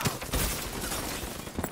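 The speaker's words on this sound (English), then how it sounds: "Flashbang." A flashbang grenade goes off in Call of Duty Black Ops 3 multiplayer: a loud, dense, crackling blast that fills the whole moment, with no voices over it.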